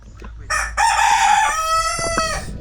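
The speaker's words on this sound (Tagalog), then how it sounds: "tinamaan kaya sumigaw yung manok" A loud, close rooster crow rings out in one long, strained call after the bird is struck, ending in a harsh squawk.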